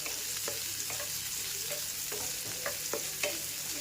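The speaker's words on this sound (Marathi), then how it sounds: "कांदा हा बारीक पातळ स्लाइसमध्ये असा कापून घेतला आहे आणि आता तो परतून घ्यायचा आहे लालसर होईपर्यंत।" Thinly sliced onion frying in a pan, a soft, continuous sizzle with occasional light knocks of the stirring utensil.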